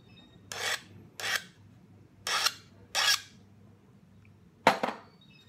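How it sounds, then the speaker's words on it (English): A knapped junk tool is sharpened by filing: five separate raspy strokes, each a short harsh scrape with pauses between, close and clear with no talk. "Sharpen this sucker up."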